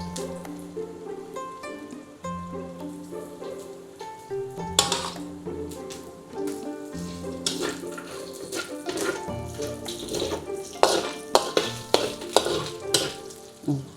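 Chicken pieces tipped into a hot wok with ginger and garlic, loud sizzling and frying with scraping stir strokes building over time, a steady crackle throughout.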